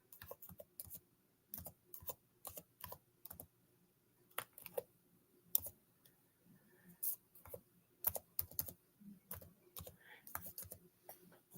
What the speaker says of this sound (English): let me type in my email address